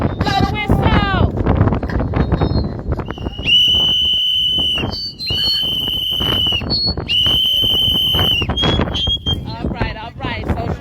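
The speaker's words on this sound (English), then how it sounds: "Blow the whistle." Whistles blown at an outdoor red whistle rally for a DC mayoral candidate, several long, shrill blasts in a row over crowd noise and wind buffeting the microphone.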